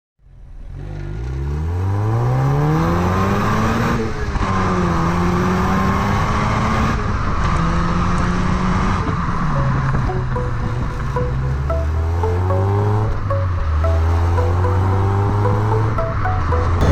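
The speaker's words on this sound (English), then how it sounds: "Okay, so driving the Mazda MX-5, the daddy, the king of the rear-wheel drive sports cars." A 1998 Mazda MX-5 NB sports car with a six-speed manual pulls away, engine rising in pitch through the gears with dips at each shift, loud and close from inside the cabin, no one talking.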